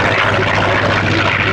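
A Focke-Wulf Fw-190A WWII fighter with a 1,600-horsepower radial engine passes overhead, a loud, steady, broadband engine roar with no gaps.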